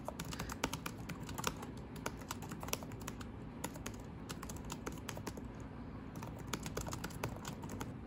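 Typing on the clicky keyboard of an Acer Chromebook Spin 311 laptop, a steady close stream of quiet key clicks with no talking.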